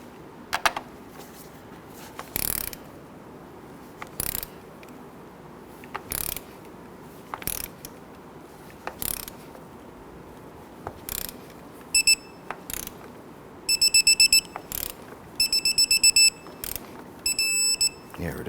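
Ratchet torque wrench tightening nuts on the AC suction and liquid line hose assembly of a 2017-2020 Hyundai Elantra: bursts of close, rapid clicking repeat through the stretch, with quieter gaps, and a few high electronic beeps near the end.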